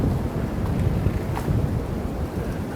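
Wind blows hard through a Maine maple sugarbush outdoors, a loud, constant rumbling rush that buffets the microphone with no break, and no voices.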